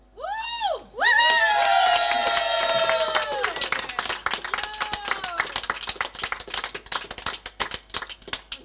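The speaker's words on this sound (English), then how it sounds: "That round of applause cost me a fortune." Studio audience at a Triple R community radio broadcast in Brunswick, Melbourne, breaks into loud cheering and whoops, then settles into sustained clapping that thins out toward the end.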